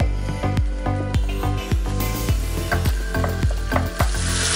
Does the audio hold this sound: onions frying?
yes